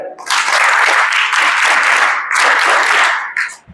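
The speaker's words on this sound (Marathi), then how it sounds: "सगळ्यात पहिले तुमच्यासाठी टाळ्या होऊ द्या" A crowd at a gathering applauds loudly, a dense burst of many clapping hands that swells, dips briefly in the middle, surges again and then tapers off at the end.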